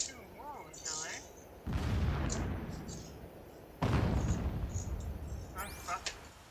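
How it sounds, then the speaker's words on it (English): Explosions in the Horizon Zero Dawn video game, two heavy blasts each hitting suddenly and then rolling off into a long noisy rumble, with sharp metallic game effects and chirps between them. "more of the explosions that don't concern me, even though I'm walking right into them"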